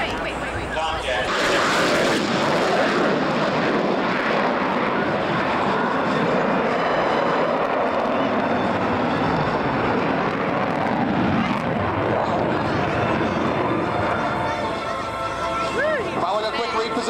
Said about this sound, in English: Hear the roar of the two afterburning engines of the F-14.